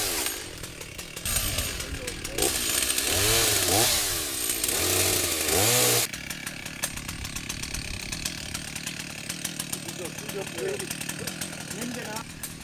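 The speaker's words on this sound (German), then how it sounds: "Ein paar Äste eines Baumes ragten in die Fahrbahn und mussten mittels Kettensäge entfernt werden." A chainsaw cuts away tree branches hanging into a roadway, its high buzzing engine rising and falling in several bursts through the first half, then dropping to a lower idle with road and outdoor background.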